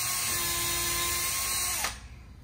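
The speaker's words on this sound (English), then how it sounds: "we're just gonna drill." A steady high-pitched drill whine boring into a clamped plastic hockey skate lift runs continuously for nearly two seconds, then cuts off abruptly, leaving a quieter background hum.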